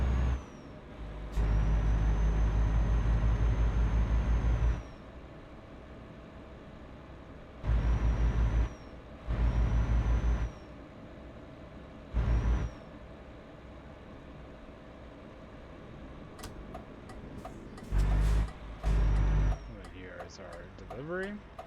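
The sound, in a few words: Volvo truck air brakes in the video game Euro Truck Simulator 2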